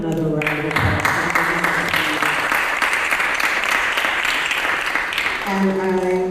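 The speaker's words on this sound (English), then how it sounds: "Let's give him another round of applause." Audience at an artists' convening brunch breaking into sustained applause, a dense, loud wash of clapping that swells quickly and carries on steadily, with a voice speaking over the start and end.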